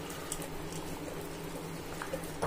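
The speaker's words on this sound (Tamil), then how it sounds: "தண்ணி எல்லாம் கொதிச்சுட்டு இருக்கு" Water comes to a rolling boil in a pot for pressure cooker mutton biryani, a soft, steady bubbling and simmering hiss at close range with no talk over it.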